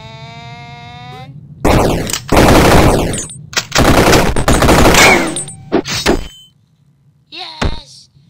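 Rapid bursts of gunfire from the 2D action game Superfighters, loud and dense, coming in two long volleys with a short gap, followed by a few scattered shots and a brief tonal game sound at the end.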